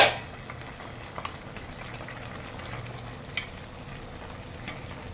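Vegetables simmer and softly sizzle in a pan with a paste of mustard, poppy seed and ginger, a low steady bubbling broken by a couple of light spoon scrapes and taps against the pan.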